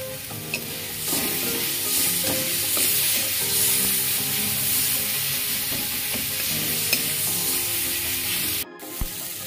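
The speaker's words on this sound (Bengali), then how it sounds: "মশলাটা ভাজা ভাজা হয়ে গেছে।" Spices sizzling steadily in a pan while a utensil stirs and scrapes through them, loud and close, with faint clinks over the continuous frying hiss until a brief break near the end.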